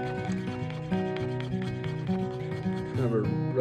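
Steady rubbing while making an axe head cover, a close, continuous scraping that keeps an even rhythm of strokes over a tonal background hum, with no voice over it.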